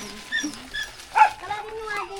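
A dog yips and whimpers near at hand in short, uneven bursts, with people talking over and around the calls.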